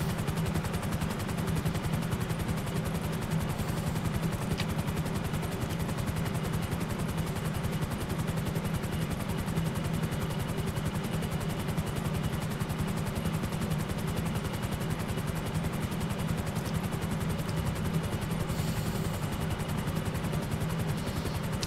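A helicopter flies in GTA 5 Online during the Union Depository contract heist, its steady rotor and engine drone loud and continuous throughout, with faint gunfire-like crackle mixed in and no talking.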